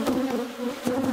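Honeybees buzzing close by around an open hive being split, a dense steady drone with a few individual bees swelling louder as they pass.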